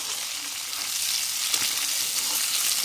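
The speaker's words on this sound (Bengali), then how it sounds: "আমার আলুটা ফ্রাই হয়ে গেছে।" Boiled potato pieces fry in hot oil for egg curry, giving a steady, dense sizzle that stays loud and close throughout with no voices.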